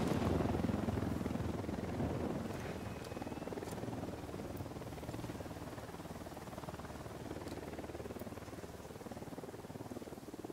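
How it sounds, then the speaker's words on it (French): A helicopter flies in the tactical shooter Ghost Recon Wildlands during co-op play, its rotor giving a steady, dense drone that stays fairly loud and level throughout, with no voices over it. "Attends, l'hélicoptère revient, vertical."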